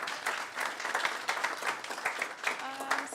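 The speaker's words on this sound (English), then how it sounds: "One last round of applause for the team," Audience applause for a team at a hackathon presentation event, a moderate, slightly uneven patter of many hands clapping that holds through the whole stretch with faint voices mixed in near the end.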